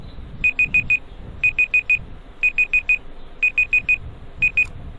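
A computer timer alarm goes off on completion, ringing in five regular bursts of four sharp electronic beeps each. The beeps sound loud and clear over a quiet, faintly noisy background.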